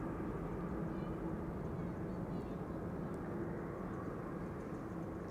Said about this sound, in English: Here is the A340-600, the Dows.